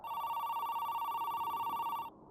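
An old telephone rings in the Arctic Cthulhu video game, a steady, buzzy ring holding evenly for about two seconds before cutting off abruptly into quiet.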